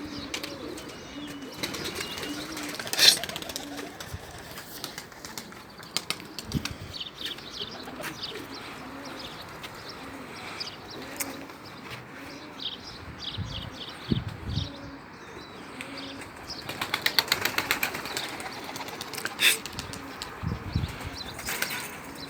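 Soft cooing of homing pigeons with occasional wing flaps and chirps, several birds close by, a louder flurry of flapping near the end.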